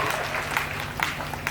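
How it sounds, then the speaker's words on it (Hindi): An audience at a comedy event in India claps in a short, fairly soft burst of applause heard from some distance. "समझे हो तो ताली बजावे"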